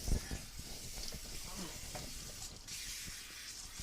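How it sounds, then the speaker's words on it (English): Hands rinsed under a running kitchen tap make a steady, soft hiss of flowing water, with faint clatter and movement underneath. "I'm going to rinse my hands real quick"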